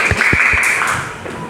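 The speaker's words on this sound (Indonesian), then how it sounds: "Tepuk tangan buat kelompok 2." A classroom of students claps for a group that has just presented a podcast, producing a brief, loud burst of close handclaps that thins out within about a second and a half.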